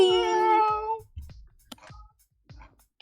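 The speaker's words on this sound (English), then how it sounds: "My cat wants to be a part of the stream." A streamer's pet cat gives one long, clear, drawn-out meow, followed by faint scattered rustles and small sounds in an otherwise quiet room.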